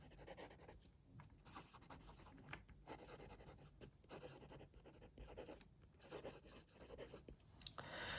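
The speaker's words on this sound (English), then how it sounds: "Let's do some writing." A Romeo Mighty fountain pen with a steel nib writes on paper, leaving soft, faint scratchy strokes in irregular bursts with brief pauses between words, close up and quiet.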